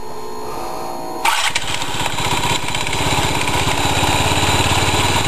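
A Yamaha C3 scooter engine catches after a quiet moment and settles into a steady, buzzy single-cylinder idle, close and loud, during a transmission demonstration.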